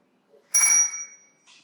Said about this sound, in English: Turning on his air, which is where you hear that ding.